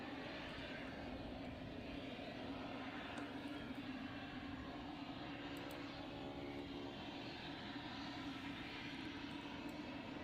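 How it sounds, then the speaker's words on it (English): A landing airplane produces a steady, distant roar of aircraft engine noise, a broad continuous wash of sound with a faint hum throughout and no clear peaks, heard from inside a vehicle or room. "Let's see if we can hear the plane landing."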